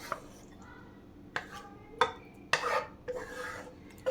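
A spoon mixes cooled caramelized pineapple into yogurt for pineapple raita, giving a few separate scraping and clinking strokes against a bowl, fairly close and with pauses between them, and no talking.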